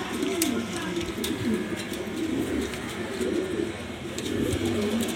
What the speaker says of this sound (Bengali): একটা মাদি কবুতর,